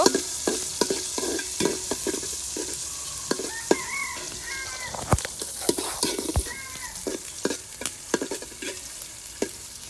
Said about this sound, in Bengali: তেলের মধ্যে পেঁয়াজ দিয়ে দিলাম পেঁয়াজটাকে একটু ভেজে নেব